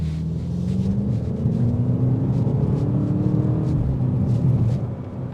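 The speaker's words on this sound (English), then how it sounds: "You can still hear the exhaust filtering in." Exhaust from a BMW X5M Competition filters faintly into the cabin while driving, a low steady rumble under road noise with a gently rising engine tone, no talking.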